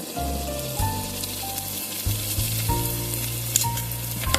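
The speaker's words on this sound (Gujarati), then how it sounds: "હવે આપણે એની અંદર થોડા થોડા પ્રમાણમાં ગુંદ એડ કરી અને એને તરી લેશું" Pieces of gond, the edible gum, fry in hot ghee with a close, steady crackling sizzle and bubbling, while a spoon occasionally stirs and scrapes through the pan.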